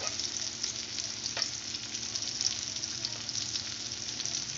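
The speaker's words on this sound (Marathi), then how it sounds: "या पद्धतीने फिरवायचं आणि छान त्यांना म्हणजे फ्राय करून घ्यायचं तेलामध्ये" Stuffed bitter gourds (bharwa karela) frying in oil as they are turned in the pan, giving a steady, dense sizzle with fine crackling pops throughout, close and fairly loud, with no voices.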